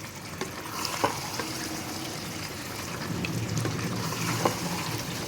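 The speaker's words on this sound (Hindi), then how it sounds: "और अब हम इसमें डालेंगे घी और इसकी कर लेंगे हम अच्छी सी भुनाई" Spinach and mutton for palak gosht roast in ghee in a pan, giving a steady, fairly quiet sizzle with a few sharp ticks and pops scattered through it. No one speaks.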